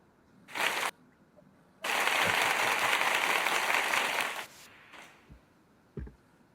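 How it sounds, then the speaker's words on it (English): A canned applause sound effect plays during a live stream celebration: a short burst of clapping, then a longer sustained wave of cheering applause lasting a few seconds, followed by brief fainter bursts and a thump. "Where's the applause?"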